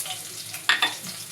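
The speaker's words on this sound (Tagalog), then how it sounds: "Gisa natin yung ating spring onion and garlic." Spring onion and garlic for pancit sauté in hot oil, a soft sizzle with a couple of sharp stirring scrapes in quick succession near the middle, close and brief, without speech.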